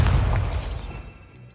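A Bombarda blasting spell goes off in Hogwarts Legacy: one loud, deep boom at the start that rolls off into a fading low rumble.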